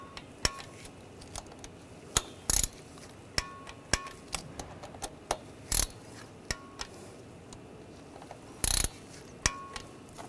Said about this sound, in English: Now I'm going to torque these to 50 inch-pounds.